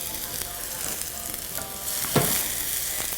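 A constant, close sizzle of stir-frying in a hot pan, with a few soft scrapes as the food is tossed and one brief louder clatter.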